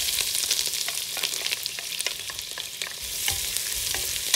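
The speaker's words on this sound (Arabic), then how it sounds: "داخل طنجرة فيها شوية زيت حامي بدنا نقلي بداية البصل والثوم." Onion and garlic fry in hot oil in a pot, giving a steady, loud, close sizzle with scattered crackles and stirring clicks throughout, no voices.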